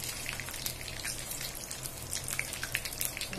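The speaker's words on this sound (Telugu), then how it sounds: "ఇప్పుడు ఈ ఆయిల్ మనకు కొంచెం వేడవ్వాలి. ఇప్పుడు ఇందులో కొద్దిగా జీలకర్ర," Cumin and mustard seeds sizzle in hot oil in a pan, a dense steady crackle with scattered sharp pops throughout, close and moderately loud with no voice.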